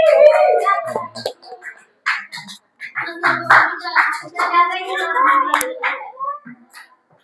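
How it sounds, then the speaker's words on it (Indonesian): Classmates clap for group 1 during an Islamic studies lesson in an Indonesian classroom, scattered hand claps mixed with continuous voices and children's chatter over about seven seconds. "tepuk tangan sekali lagi untuk kelompok 1."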